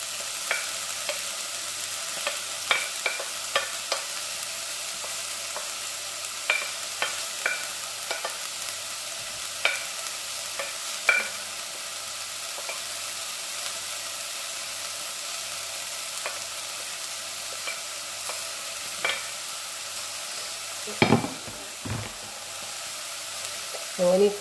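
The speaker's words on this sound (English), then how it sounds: "So I'm gonna let that saute off, guys, before we add the rest of the ingredients." Bell pepper, thyme and other vegetables for vegan ackee rice sizzle softly in a pan, a steady low frying hiss broken by occasional utensil clicks and stirring scrapes, with a brief louder clatter near the end.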